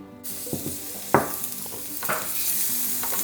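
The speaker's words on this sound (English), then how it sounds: "When the pot is hot, then you can add your minced garlic and your cut onions." Minced garlic and chopped onions hitting hot olive oil in a pot, a sudden sizzle that settles into steady frying with a few stirring scrapes and clunks, close and alone.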